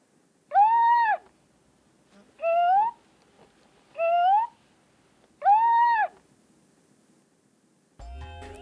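The upgraded Paro robot seal voice sounds four clear, tonal, owl-like calls at even intervals, each crisp and close, with quiet gaps between and a short, different noise at the very end.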